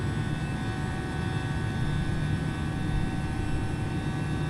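Airbus A318 jet engines held on throttle during a climb in Microsoft Flight Simulator 2020, a steady, loud broadband roar with a faint constant hum and no speech.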